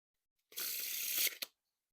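A single brisk, papery whoosh of Blue Bicycle Parquet playing cards being fanned out, lasting about a second and followed by a quick soft snap.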